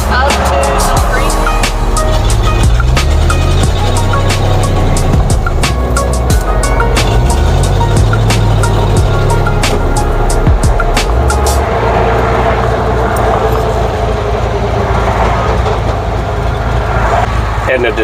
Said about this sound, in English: Edna does not like this traffic.